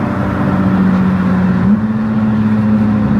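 A Porsche 992 GT3 engine roars steadily from close range, with a strong, sustained tone that steps up in pitch partway through as the car pulls through the gears.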